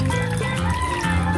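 Water pours steadily into a cooking pot of string bean adobo, a continuous splashing rush over a low background hum, with no talking during the pour.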